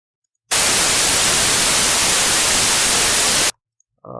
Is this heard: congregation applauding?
no